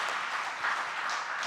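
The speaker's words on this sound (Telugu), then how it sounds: "ఒకసారి చప్పట్లు కొడదామా?" A church congregation at a Sunday service claps together in a steady, dense wash of applause, moderately loud and fairly close.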